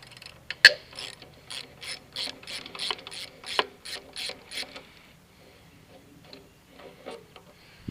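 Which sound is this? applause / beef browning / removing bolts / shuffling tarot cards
removing bolts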